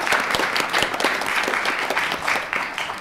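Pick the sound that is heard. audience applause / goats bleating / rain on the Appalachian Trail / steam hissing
audience applause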